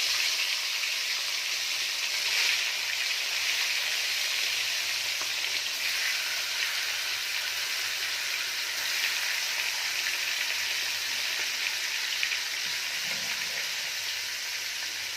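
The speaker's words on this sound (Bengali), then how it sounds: "মাছগুলো খুব ভালো করে আমি ভেজে নেব।" Fish pieces frying in hot mustard oil in a pan, a loud, even, hissing sizzle that runs unbroken and close for the whole stretch.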